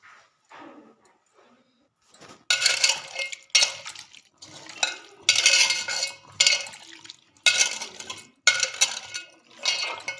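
Raw chicken, a kilo meant for pickle, being mixed by hand with turmeric and salt in a metal bowl, giving repeated close, loud bursts of wet squelching and clinking against the bowl, separated by short pauses.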